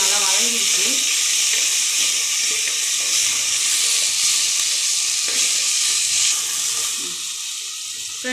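Chili-powder masala sautés in a pan for fish curry, a loud, dense sizzle with stirring scrapes, easing off slightly near the end.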